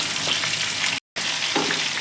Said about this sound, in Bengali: আদা গ্রেড করে রেখেছি আর কাঁচা লঙ্কা চার পাঁচটা আর মাছ ভাজা একসঙ্গে ছেড়ে দিচ্ছি